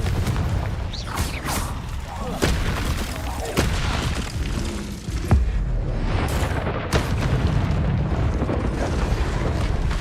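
Spell blasts and explosions in the Hogwarts Legacy video game, including the Confringo blasting spell, as a string of loud booms and sharp impacts over constant low rumbling combat noise.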